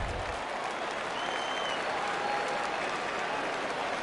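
Home crowd at a minor league baseball game between the Barons and Biscuits applauding and cheering, a steady broad wash of clapping and voices that holds evenly throughout without any talk.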